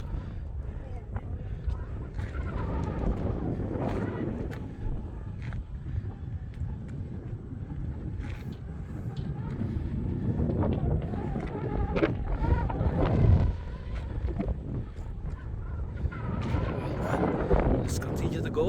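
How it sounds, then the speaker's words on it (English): Strong gusting wind buffets the microphone on a cold, exposed mountain trail at Coronet Peak in New Zealand, a dense rumbling roar that swells and surges for the whole stretch. "It's so windy here."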